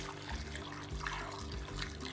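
Water pours steadily into a cooking pot for chicken feet adobo, a continuous close splashing gurgle lasting only a couple of seconds.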